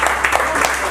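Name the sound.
audience applause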